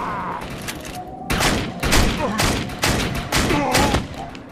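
Shotgun and LMG gunfire in Defiance 2050, heavy booming blasts fired in a rhythmic series of roughly six loud bursts over continuous rattling, with a voice speaking underneath.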